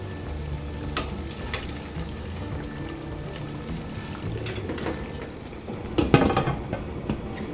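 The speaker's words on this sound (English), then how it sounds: "Water's still boiling, so I can start my timer." Water boils in a canning pot of sealed peach jars, a continuous low rumbling bubble with faint clinks and a brief louder clatter near the end.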